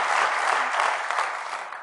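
Steady applause from a large audience at a royal-attended innovation summit, dense clapping sustained throughout without pause, fairly close and even in loudness.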